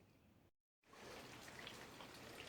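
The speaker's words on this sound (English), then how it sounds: "it started raining. You probably hear it" Outdoor rainfall at a bushcraft camp, a steady soft hiss of drops that cuts out briefly and then resumes as continuous, even patter with no talking.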